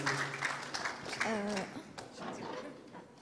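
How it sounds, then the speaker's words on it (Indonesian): An audience at an art discussion forum claps, a light patter of applause mixed with speech and voices. "Tepuk tangan dong buat Ibu Maya."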